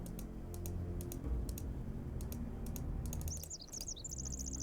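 Bird chirps in the Nancy Drew: Tomb of the Lost Queen computer game, faint repeated tweets and a trilling call near the end over steady ambient hum and rapid keyboard typing.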